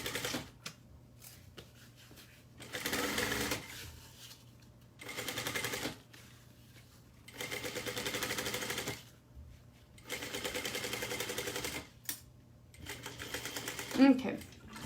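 Sewing machine top stitching a garment seam at a quarter inch, running in several short bursts of steady rapid stitching separated by pauses.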